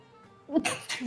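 A single sharp sneeze bursts out midway after a quiet moment, followed by a brief breathy exhale.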